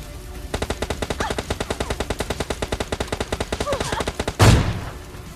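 Rapid automatic M4 rifle fire in a mobile battle-royale video game, a long steady burst of evenly spaced shots followed by a single heavier blast, loud and close.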